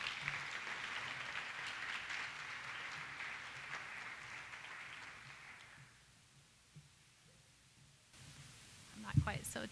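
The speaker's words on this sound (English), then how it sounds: "Let's give them a big round of applause, first Shannon and then Chrissy." Applause from parents at a fall school parent meeting, a moderate round of clapping for about six seconds that fades away, followed by a quiet room and some close handling noise near the end.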